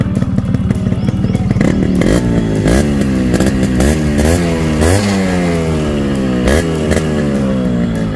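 A Yamaha RX100 motorcycle with its original silencer revs repeatedly, the two-stroke engine rising and falling in loud, close, rattly bursts over a steady idle.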